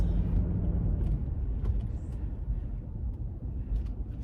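A car drives to work on an overcast morning, its engine and road noise forming a steady, close interior rumble with no talk.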